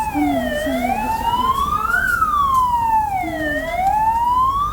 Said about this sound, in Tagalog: Ito, dumating na yung mga bombero.